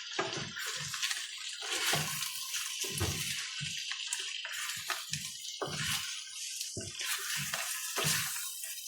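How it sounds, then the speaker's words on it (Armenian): Water pours in short uneven splashes into a pot of lamb stew with green beans, carrots and peas, close and fairly quiet, with no voices. "Ջուր ավելացնում եմ։"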